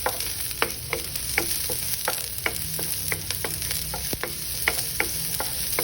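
Garlic and onions frying in a pan, a steady soft sizzle with repeated sharp clicks and taps of a utensil stirring against the pan at an uneven rhythm, no talking.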